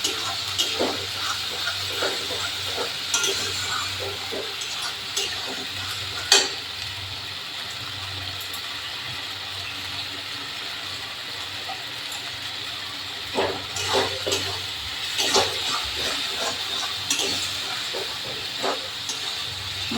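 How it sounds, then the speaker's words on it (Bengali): Spice paste of ground cumin and coriander frying in oil in a pan for pabda fish tel jhal, a steady soft hiss of sizzling with occasional sharper pops and spoon scrapes, close and continuous. "দিয়ে মশলাটা সুন্দর করে একটু কষে নেবো।"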